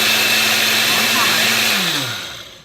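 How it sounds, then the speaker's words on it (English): A kitchen blender on pulse grinds whole oats into a fine powder, its motor whirring loudly with a droning hum, then winding down as the pulse ends. "So I've turned my blender on,"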